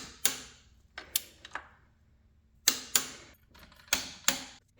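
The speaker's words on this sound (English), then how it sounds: "So we can torque these down with our special pin wrench here," A special pin wrench tightens bolts to 33 foot-pounds during a water pump and thermostat job on a Porsche 944, giving sharp metallic ratcheting clicks in short bursts separated by pauses, close and fairly loud with no talking.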